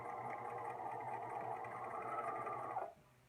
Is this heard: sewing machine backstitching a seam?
yes